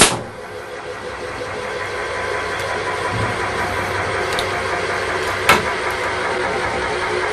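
A centrifugal jewelry casting machine spins molten metal into a mold, giving a steady, loud mechanical whir with a sharp clank at release and another knock partway through.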